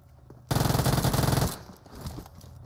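Sustained automatic weapon fire from PUBG Mobile rattles loud and close for about a second in a dense burst of rapid shots, then cuts off, leaving faint game ambience behind.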